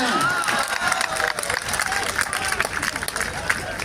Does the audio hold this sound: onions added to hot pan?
no